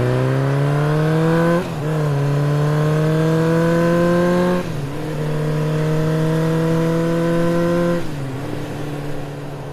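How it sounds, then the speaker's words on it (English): A motorbike engine holds a steady note, then revs up in three rising gear changes as it pulls away, each shift marked by a brief dip before the pitch climbs again, loud and close with no talking. "He immediately started his motorbike, then left me."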